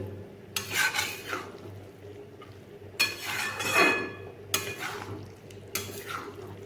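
Bottle gourd being stirred with spices in a pan, the spoon scraping and clinking against the metal in a few bursts over a steady background hum, with no voices.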